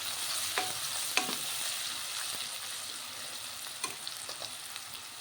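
Two large chopped onions fry in a pan with a soft, continuous sizzle, broken by a few scrapes and clicks from stirring.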